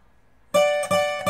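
After a near-silent half second, a requinto guitar strikes into a passage of a song with three bright, ringing strums or note clusters, close and loud, alone without talk.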